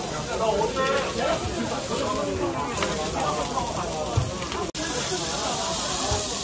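Steady sizzling and hissing of meat frying in a pan, close by, with people talking over it.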